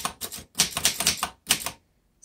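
Close, crisp key strikes on a 1919 Corona Three vintage typewriter, several quick clacks in uneven bursts followed by a short silence.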